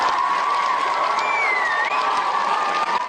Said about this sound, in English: then the gasps and applause